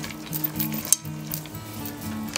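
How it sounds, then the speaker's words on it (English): A spoon stirs spices into a Mexican-style vegan casserole mixture with soft scraping and a light sizzle-like rustle, close up and fairly quiet, with one sharp clink midway. "you're just going to stir this"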